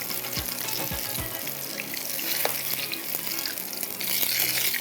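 Minced meat qeema for hara masala qeema sizzling in a pan, a steady close crackle with a few low clinks and stirring scrapes early on, no talk.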